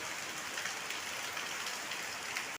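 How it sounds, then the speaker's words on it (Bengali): Steady rain falls outside a home in a continuous, dense patter, fairly close and even throughout, with no one talking. "বৃষ্টি শুরু হয়ে গেছে"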